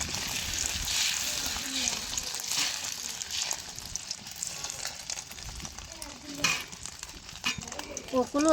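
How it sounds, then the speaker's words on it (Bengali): An egg frying in oil with dried red chillies in a home kitchen, a bright continuous sizzle and crackle close up, with voices talking over it and a few clatters near the end. "শুকনো মরিচ দিয়ে ডিমটা ভাজবো আর কি"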